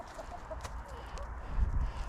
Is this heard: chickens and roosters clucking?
yes